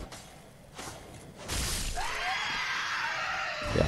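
An enemy creature in the video game Dark Souls 3 lets out a harsh, sustained screech amid thuds and game noise, loud and close, with no talk over it.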